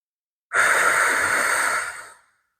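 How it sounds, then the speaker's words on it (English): A deep yoga breath, a single long, full exhale that begins abruptly, holds steady and close for about a second and a half, then trails off into silence. "Big breath in, the biggest breath you've taken all day. Exhale it out."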